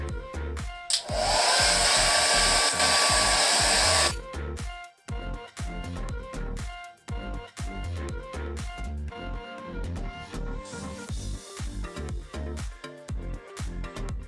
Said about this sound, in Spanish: Consiste en secar el pelo con secador.